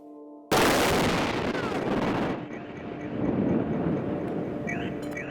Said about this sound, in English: The booms created a mushroom cloud of frightening proportions